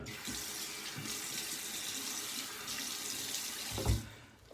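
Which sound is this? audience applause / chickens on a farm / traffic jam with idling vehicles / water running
water running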